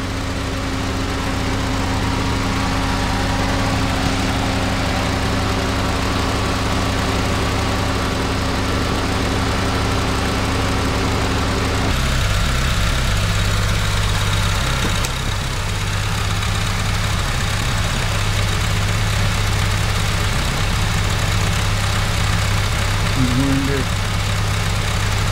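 A car engine idles steadily with the air conditioning running, a loud continuous hum and drone that holds throughout, with a slight shift in tone partway through.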